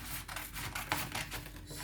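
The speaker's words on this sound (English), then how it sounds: "I'm using scissors and not a guillotine for cutting" Scissors snip fabric strips along a drawn line, producing faint, close rasping cuts in a quick irregular series, with no voices.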